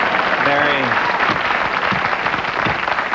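Studio audience applause on a late-night talk show, opening with a brief shout over the clapping and then settling into sustained, even applause.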